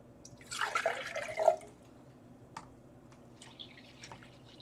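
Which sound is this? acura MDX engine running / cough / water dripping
water dripping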